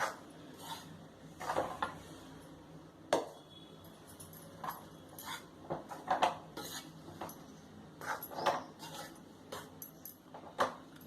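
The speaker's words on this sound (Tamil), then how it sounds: "ஸ்லோவில் வச்சு நல்லா மசிச்சுக்கிட்டே இருக்கணும்." A spoon stirs and mashes green gram dal laddu mix in ghee in a metal pan, with repeated clinks and scrapes at an uneven rhythm, close and fairly quiet, no talking.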